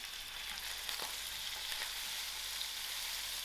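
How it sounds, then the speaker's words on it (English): Marinated fish roe sizzles steadily in hot oil in a pan, a dense continuous crackle that stays loud and close for the whole stretch, with no voices over it. "I'll give this a quick fry."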